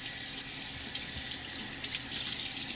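Water runs steadily from a tap in a constant hiss with light splashing, close and alone, no voices.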